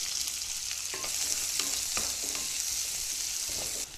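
Steady sizzling of onions frying in hot oil, close and constant, with a few light clinks of stirring, while cooking matar paneer.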